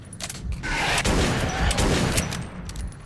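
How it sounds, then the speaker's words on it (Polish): Gunshots in Metro 2033 tunnels, a dense fusillade of rapid overlapping shots and booms at close range, steady and loud across the whole stretch, without talk. "Czy ja strzeliłem, czy tamten strzelił?"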